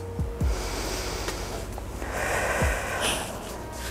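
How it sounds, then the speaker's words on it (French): Deep breaths drawn and released during neck exercises, a few loud close snort-like inhales and exhales with airy rushes between them. "On prend des bonnes respirations."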